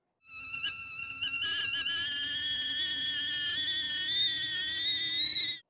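A shrill, steady steam whistle sounds continuously for several seconds, rich in overtones, its pitch creeping slightly upward before cutting off.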